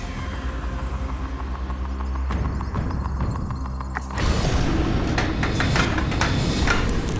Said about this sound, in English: Rattling about, settles on the right.